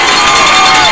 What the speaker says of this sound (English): The crowd again on their feet, a lot of noise.